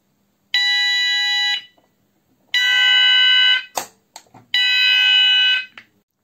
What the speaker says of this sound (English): you can hear the alert tone on all the sounders